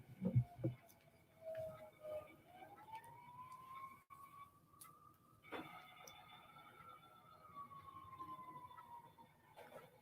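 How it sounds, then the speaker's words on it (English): A siren wails at a distance, its pitch rising and holding in long sweeps, with a brief thump of noise at the start. "Yes, sirens are here."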